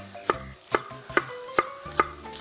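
A knife cuts artichoke and leek into julienne strips on a board, giving about six soft, evenly spaced chopping taps, close and fairly quiet, with no talk.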